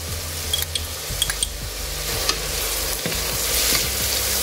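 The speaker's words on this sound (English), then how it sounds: "I'll saute this until the raw smell of the ginger garlic is not gone away and the onions are nice golden brown." Onions with grated ginger and garlic sauté in a pan for a Maharashtrian misal, giving a steady close sizzle with repeated stirring scrapes and light clinks of the spoon against the pan.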